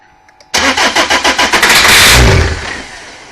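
A 2003 Renault Laguna 1.9 dCi diesel that will not start cranks over loudly, the starter giving a steady rhythmic chug of about eight compression beats before merging into a continuous whirring spin that then dies away.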